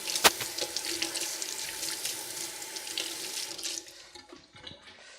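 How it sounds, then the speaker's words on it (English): A tap runs into a sink while hands are washed, a steady close splash of water with small spattering changes that thins out and stops near the end, with no voices. "Again, I'm washing my hand."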